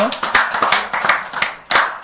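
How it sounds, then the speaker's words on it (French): A TV studio audience claps to welcome a guest onto the set, a quick burst of close, crisp claps with voices mixed in. "Applaudissements pour l'accueillir, s'il vous plaît."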